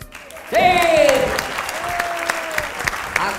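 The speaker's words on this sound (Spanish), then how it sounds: "Laura, todos por aquí aplaudiéndote que se vuelven locos" An audience claps steadily at the closing of a comedy show at César Manrique Cultural, sustained dense applause in a hall, with a loud whoop or shout over it at the start.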